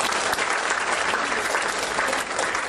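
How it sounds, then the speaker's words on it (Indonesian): An academic audience at a scholarly oration ceremony applauds steadily, a dense, even wash of clapping from a crowd that holds at full strength throughout. "Tepuk tangan untuk kita semua."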